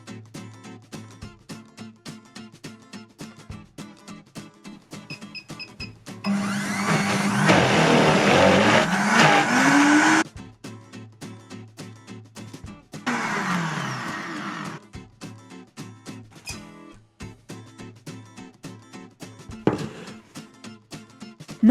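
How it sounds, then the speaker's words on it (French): A blender whirs loudly while emulsifying coconut oil into a raw vegan foie gras mixture, running in two bursts of about four and two seconds over a ticking background beat. "Après seulement, on rajoute l'huile de coco qu'on va émulsionner en mixant à nouveau."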